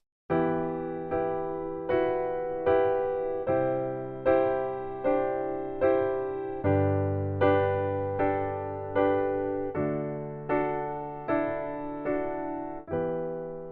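Piano plays a steady rhythmic pattern of repeated chords, each struck and left to decay, moderately soft and close, with a shifting bass underneath.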